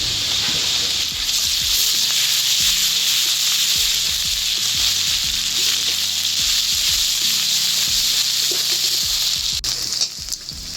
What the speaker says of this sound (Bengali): এইবারে দিয়ে দেবো আদা রসুন বাটা।